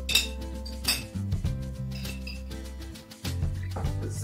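A spoon clinks and taps against a glass jar of real free-range mayonnaise while scooping, giving a few bright, close knocks over a faint background tone.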